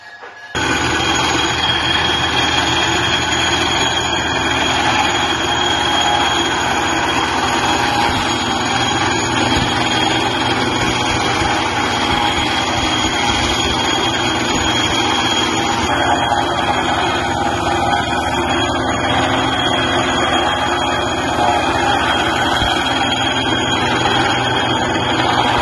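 A straw, grass and maize silage cutting machine runs continuously, giving a loud, steady mechanical drone with a deep rumble that holds level throughout, with no voices.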